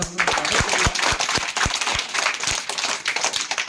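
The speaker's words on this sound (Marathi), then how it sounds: "जोरदार टाळ्या वाजून आपण" A crowd applauds at a school supply distribution event in Unchkhadak Bu, Akole taluka, with loud, steady clapping that runs throughout.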